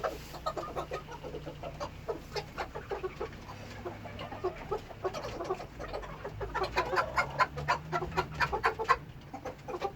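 Chickens in a coop, many birds clucking and chattering in a busy, continuous flurry of short calls at close range, without any talk.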